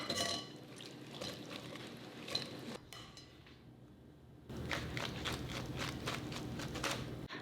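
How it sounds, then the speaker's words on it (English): An apple, lemon, sugar and cinnamon mixture is poured through a strainer into a bowl, giving a soft, continuous liquid pour and patter that pauses briefly midway and then resumes. "I'm going to pour it into a bowl with a strainer on top."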